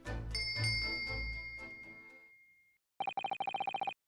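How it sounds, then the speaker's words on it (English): Bell cord pulled in the Great Ace Attorney Chronicles game: after a fading tonal passage and a brief pause, a rapid, bright electric-style bell rings in a quick repeated burst for about a second, loud and alone. "Yes, it's a bell cord."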